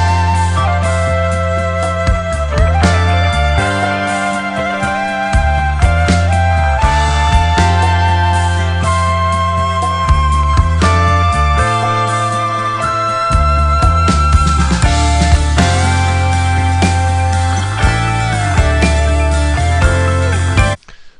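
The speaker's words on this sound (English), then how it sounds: "adding a little bit of rhythm guitar just to add some harmonies to what she was already doing." A Secret of Mana arrangement plays at full level, with layered rhythm guitar adding harmonies over a dense, driving band mix that runs continuously before cutting off at the end.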